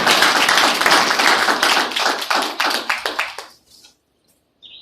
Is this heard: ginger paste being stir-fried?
no